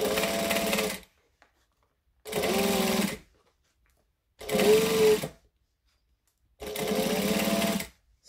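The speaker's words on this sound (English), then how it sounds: "And then I'm going to top stitch to hold it in place." A sewing machine top-stitches a fabric case in four separate bursts of rapid needle clatter, each lasting about a second, with short silent pauses between them.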